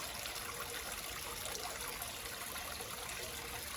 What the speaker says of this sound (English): Don't you love the sound of water?